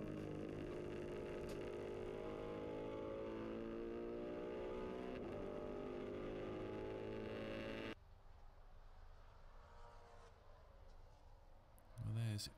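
A 2014 Maserati Trofeo race car leaves the pits at Abu Dhabi, its engine note rising steadily as it accelerates away, then fading into distant track noise, under continuous commentary.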